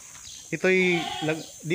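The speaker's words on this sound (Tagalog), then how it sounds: "Mga kambing, ayan, may mga kulungan din ng kambing." Goats on a farm in Nagcarlan, Laguna bleat in several close, wavering calls, one long bleat followed by shorter ones at uneven intervals.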